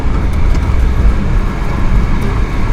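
A manual transmission car drives along in third gear, its steady, loud engine and road rumble filling the cabin without a break.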